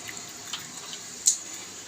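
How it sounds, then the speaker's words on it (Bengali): Water runs briefly from a kitchen tap while cooking, a soft close trickle with a small splash or clink near the end, no talk. "একটু জল নেব"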